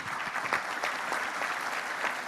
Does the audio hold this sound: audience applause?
yes